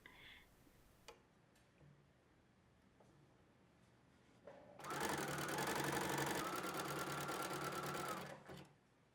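Domestic sewing machine stitching along a finished fabric edge at a corner, a steady loud mechanical whir for about four seconds after light handling clicks, then stopping.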